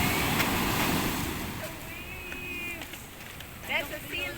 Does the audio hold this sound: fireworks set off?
no